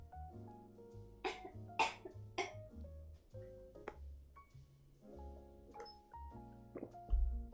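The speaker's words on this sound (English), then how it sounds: "Sorry, let me cough." Several sharp coughs in quick succession, close and fairly loud over soft background music, followed by a few quieter throat-clearing coughs.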